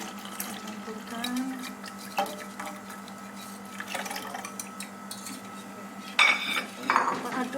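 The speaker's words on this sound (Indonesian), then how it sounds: "Kita aduk terus." A utensil stirs a cream cheese dessert mixture in a bowl, giving soft scraping and squishing sounds with light clinks against the bowl and a couple of sharper knocks near the end. No one speaks.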